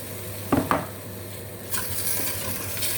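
Two quick metallic scrapes as stuck food is loosened from the bottom of a pot of boiled chicken, then a steady hiss of sizzling takes over. Nobody speaks.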